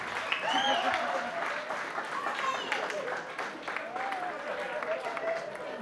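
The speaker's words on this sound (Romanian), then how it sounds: "aplauze!" Wedding-show audience applauding at a themed wedding celebration, continuous clapping mixed with crowd noise, voices and bits of music throughout.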